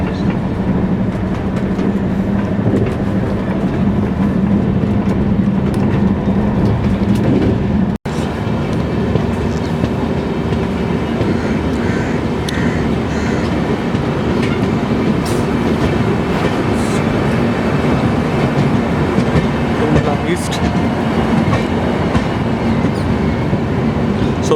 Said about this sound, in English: we are continuing our blast at fact 130 kilometers per hour